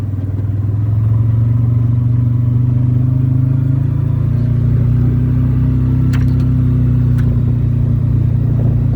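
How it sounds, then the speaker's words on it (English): A 2025 CFMoto U-Force 800 XL crew side-by-side idles and revs its warmed-up 800 V-twin engine, a loud, close, steady low growl with a brief clatter near the end. "See, I like that V-twin growl."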